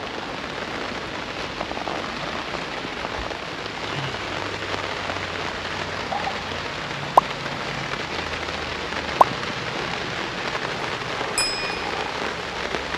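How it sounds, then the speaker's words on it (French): Rain falls steadily at night in Paris, heard from a sheltered spot, a dense even hiss of drops with a couple of sharp isolated taps, continuous and moderately loud with no talking. "Et c'est encore la pluie, oh là là."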